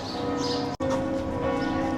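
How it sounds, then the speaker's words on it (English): Church bells ring out at midday across a small Austrian town, several churches sounding together in a dense, reverberant clang heard from a distance with a brief gap in the middle. "The bells are ringing all around the town."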